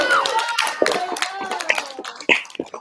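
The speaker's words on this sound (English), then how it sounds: "Can we just give them like a big cheer for finishing this race?" Crowd cheering, whooping and clapping for the HMS Oardacious Valkyries rowing team finishing their race in Antigua, a lively burst of shouts and applause mixed with close voices.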